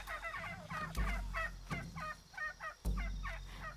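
Wild turkeys gobble repeatedly in Shadow of the Tomb Raider, a rapid chain of rattling gobbles in several bursts over a low ambient hum, with two sharp thuds between calls.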